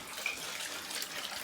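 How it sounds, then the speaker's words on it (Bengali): Tap water runs steadily into an aquarium being filled indoors, a soft continuous splashing rush with no voices. "আর এদিকে তো জলটা ভরছে"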